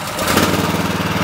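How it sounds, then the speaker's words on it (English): A Digger King T15 mini loader's petrol engine catches and runs, a steady, fairly loud mechanical drone with a rapid pulsing beat that builds in the first moments and then holds even, with no talk over it. "Starts easy. Being a petrol engine, it's a little bit noisier"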